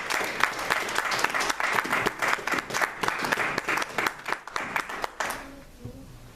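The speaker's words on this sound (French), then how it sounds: "Acclamons pour Jésus." A church congregation applauds in a sustained round of dense clapping that tapers off at the end, with faint voices underneath.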